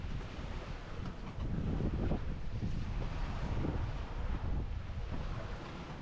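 Ocean waves and gusting wind wash over the foredeck of a sailboat crossing the Western Pacific, a loud, continuous roar with swelling surges and heavy wind buffeting on the microphone, no voices.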